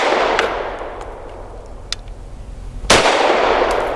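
Gunshots from a SAR USA P8L pistol firing Norma ammunition: a few sharp, isolated reports spaced irregularly, the last one loudest and closest, with ringing outdoor ambience between shots.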